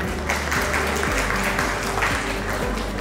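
Steady applause from an audience at an award ceremony, continuous clapping at a strong level mixed with background music, without a pause.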